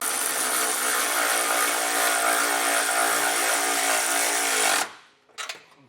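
A power tool drives a deep-well 18 socket on a 3-inch extension, tightening bumper nuts on a 2023 Jeep Wrangler; a loud, steady whine holds for about five seconds, then cuts off, followed by a brief softer burst.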